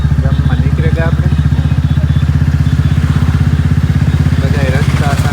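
A Bullet motorcycle with a new silencer rolls slowly along rain-soaked village roads, its engine thumping in a loud, even, rapid beat throughout while someone talks over it.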